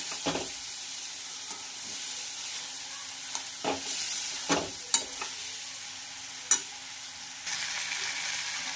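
Capsicum sabzi fries and cooks in a pan with a steady, close hiss of sizzling oil. A few sharp clicks and scrapes of a spoon break through now and then, and no one speaks.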